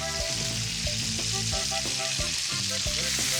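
Potatoes hit a hot discada grill in a Chihuahua-style mixed meat cook with chile verde, setting off a loud, steady sizzle and crackle with stirring scrapes underneath, and no talking.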